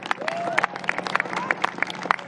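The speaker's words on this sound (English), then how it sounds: "Let's give them another round of applause." Crowd applause for Global Citizen at a New York press event about a free World Cup watch party in Central Park: steady clapping over crowd murmur and scattered whoops, with brief cheers rising now and then.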